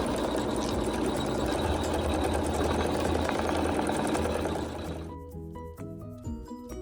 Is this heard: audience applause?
no